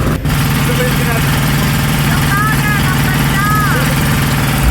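A boat engine runs steadily with a low, continuous rumbling drone, with faint voices briefly rising above it.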